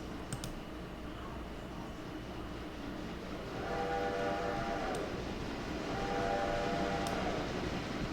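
A passenger train pulls in within the Railroader game, a low steady rumble of wheels rising gradually as it approaches, with two long horn blasts sounding from a distance.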